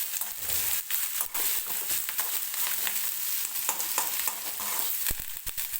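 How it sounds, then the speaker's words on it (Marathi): Onion and curry leaves fry in a pan with a close, steady sizzle, while frequent scraping and clacking of a spoon stirring against the pan cuts through it. "थोडासा सोनेरी रंग येईपर्यंत हा कांदा आपल्याला भाजून घ्यायचा आहे"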